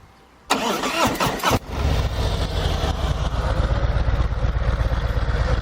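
A motorcycle engine cranks and fires up close by, then settles into a loud, steady idle in neutral with a fast, even rumble.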